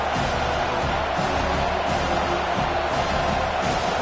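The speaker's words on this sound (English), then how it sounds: "This crowd bringing the energy and noise early." Stadium crowd noise in the College Football 25 video game, a continuous broad roar that stays level and loud throughout, with no distinct cheers standing out.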